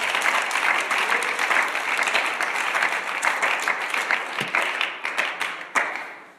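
Church congregation gives loud, sustained applause during a sermon, dense clapping that fades into scattered claps at the end.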